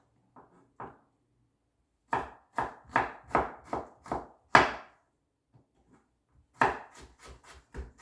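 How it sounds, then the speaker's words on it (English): A knife chops carrot into long strips on a wooden board, with a few slow cuts first and then a quick run of crisp, close chops, a pause, and another burst of cuts. "you continue to do that until all your carrot is chopped in this fashion"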